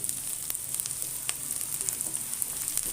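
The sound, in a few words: onion and chopped garlic frying in a pan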